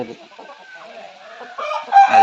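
A pandem kodi fighting rooster crows nearby, its call rising loudly near the end after quieter clucking, with faint background sounds.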